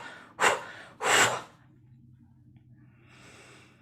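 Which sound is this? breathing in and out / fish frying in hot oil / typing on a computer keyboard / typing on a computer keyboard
breathing in and out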